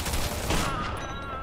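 Rapid volley of gunfire in Mafia 2, a dense continuous burst of shots with game sound layered over it and no clear talk.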